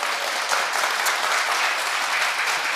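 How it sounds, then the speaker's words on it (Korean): An audience at a church rally claps together in a continuous, dense burst of applause, steady and fairly loud for the whole stretch. "박수 한번 치실래요?"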